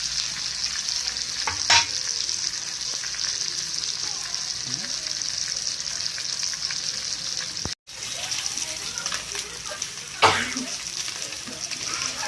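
Fish sizzles steadily in oil in a pan while being fried for a fish curry, a continuous bubbling hiss with a couple of brief louder spits and a short gap partway through.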